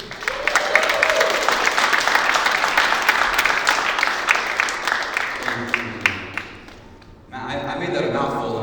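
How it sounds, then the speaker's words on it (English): Applause from a conference audience welcoming a speaker at a tech event, a dense sustained clapping crowd that thins and pauses near the end before a voice begins talking. "Please give a round of applause for your next speaker"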